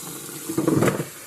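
Hot water gushes from a kitchen tap during crockpot prep of chicken gizzards, hearts and baby potatoes, a short, close splashing burst of about half a second that rises and then fades, with no voices.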